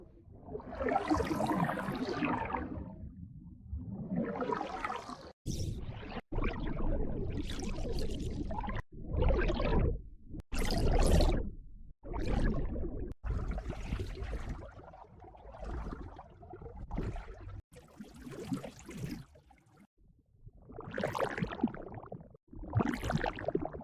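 Heavily processed water sounds built for Overwatch-style water spells: a series of swelling, whooshing liquid bursts that rise and fall, some long and surging, others short and sharp, with brief gaps between them, loud and close.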